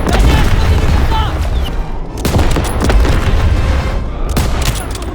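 Dense gunfire and explosions from a WWII trench battle in Call of Duty: WWII, continuous loud volleys and booms throughout with sharp bursts standing out, no clear talk.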